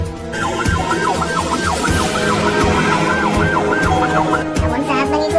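An ambulance siren wails loud and close with a rapid repeating up-down yelp, running continuously over traffic rumble.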